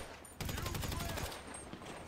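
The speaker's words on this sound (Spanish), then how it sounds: "alguien me está disparando de acá" Rapid automatic gunfire in Grand Theft Auto V, a dense burst of shots lasting about a second, moderately near, then fading into scattered echoes and background game noise.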